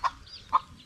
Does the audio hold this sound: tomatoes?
no